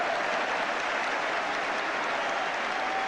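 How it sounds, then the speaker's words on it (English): Steady crowd applause fills the stands at a West Ham United versus Manchester United football match, a dense continuous wash of clapping and crowd noise at constant loudness with no clear voices. "You can see the applause that's coming up."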